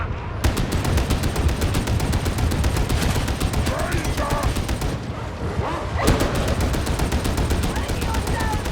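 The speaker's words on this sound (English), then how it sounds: "Throwing grenade!" A grenade explodes in the Warhammer 40k Darktide video game while an Ogryn gunner fires. Booming blasts cut through dense, rapid machine-gun fire that runs throughout, with voices underneath.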